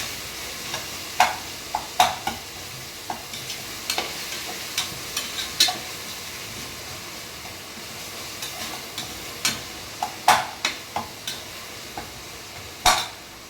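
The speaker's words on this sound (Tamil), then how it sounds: "இப்போ தக்காளி நல்லா வதங்கிட்டு எண்ணெய் திருப்பி வர அளவுக்கு நல்லா வதக்கணும்" Tomatoes sauté in oil in a pan under a soft, continuous sizzle, punctuated by repeated sharp scrapes and taps of a spoon stirring at an uneven pace, with no talking.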